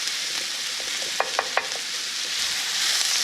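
Asparagus sautés in a pan, a steady bright sizzle with three quick scrapes of stirring near the middle, close and alone.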